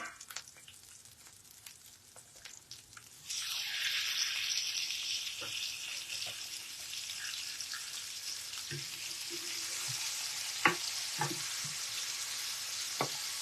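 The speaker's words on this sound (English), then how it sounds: "if you don't hear that sound when you put your steak on there" Steaks hit a hot pan and a loud, steady sizzle starts suddenly, then holds as a close, dense crackle with occasional pops and small clinks.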